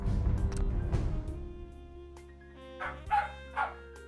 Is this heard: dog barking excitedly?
yes